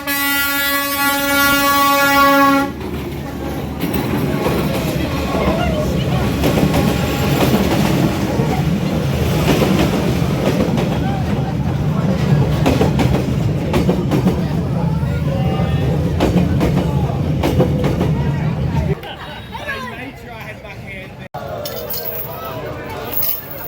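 A train rolls through Hanoi's Old Quarter Train Street, opening with a loud horn blast, then a long rumbling pass with clattering wheels and metallic clinks close by, fading near the end as people talk nearby.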